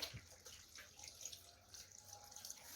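Tap water runs steadily over hands being rinsed at a sink during a handwashing routine, a faint, close splashing stream with small irregular spatters throughout.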